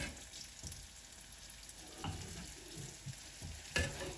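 Bonda frying in hot oil, a steady low sizzle running throughout with a few soft clinks and stirring scrapes, fairly quiet and close, no voices.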